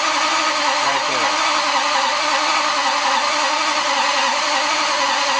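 A V12 engine runs steadily with its ignition coils disconnected, a loud, even, continuous drone with no revving or variation throughout.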